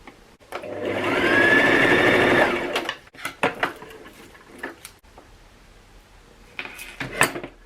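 A sewing machine runs a quick stitching burst across a quarter-inch seam allowance on a simple swing wedding dress, whirring steadily for about two seconds, followed by light clicks and handling of fabric and tools.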